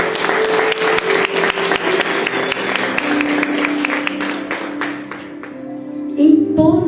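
A church congregation applauds in a sustained wash of clapping, with a few louder sharp claps near the end and some background sound under it.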